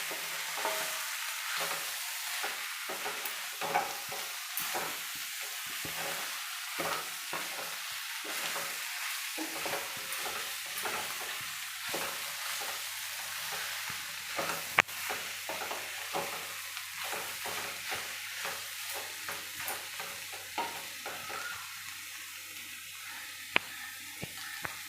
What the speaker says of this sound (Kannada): ಈ ಥರ ಸ್ವಲ್ಪ ಫ್ರೈ ಆಗಲಿ, ಉಪ್ಪು ಖಾರ ಎಲ್ಲ ಹಿಡೀಲಿ.